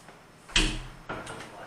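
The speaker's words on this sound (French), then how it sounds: "je vais fermer la porte" An indoor door is pushed shut with a firm thud, then a softer second knock of the latch about half a second later, heard alone in a quiet room.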